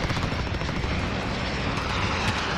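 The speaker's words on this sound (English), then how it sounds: "Enemy VTOL jet inbound." Jet engine roar of an enemy VTOL aircraft in a Call of Duty Modern Warfare Ground War battle, a loud continuous broadband rush mixed with battlefield noise and distant gunfire.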